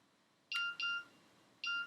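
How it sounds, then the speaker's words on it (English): A mobile phone beeps three times in a quiet room, with two quick tones in close succession followed by a third after a pause, clear and fairly close. "And my phone's going to beep"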